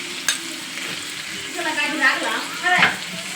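Poppy seed and cashew paste stirred into a frying pan with ginger and garlic, a soft steady sizzle with scraping spoon strokes building toward the end, close and moderately loud, with a faint voice underneath.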